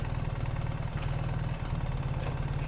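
A BMW R 1300 GS Adventure motorcycle engine idles at a stop in first gear, a steady low rhythmic throb with faint wind and road noise over it, close and continuous with no talking.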